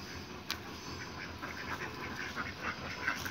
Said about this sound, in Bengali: হাঁস কতগুলো